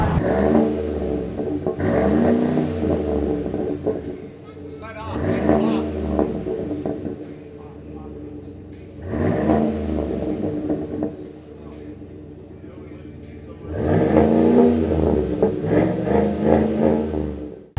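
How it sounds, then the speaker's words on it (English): A lifted 2019 GMC Sierra SLT pickup with a Flowmaster exhaust revs repeatedly with a deep, throaty exhaust rumble, several rising bursts separated by idling lulls, loud and close. "we did the Flowmaster exhaust, and we'll show you what that sounds like"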